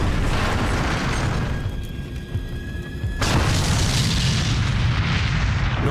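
Grenades burst on a T-34 tank amid street fighting at Stalingrad, heard as a dense, loud rumbling boom that drops back briefly and then swells again into a sustained roar, with no voices.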